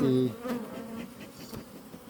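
Honeybees buzz in a hive packed with honey in late August, a dense close drone that opens loud and settles into a steadier hum.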